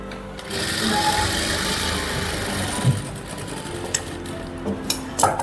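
Sewing machine stitching the cuffs of a chicken-work salwar, a steady fast mechanical whirr that runs almost continuously, with a few light knocks and clicks near the end.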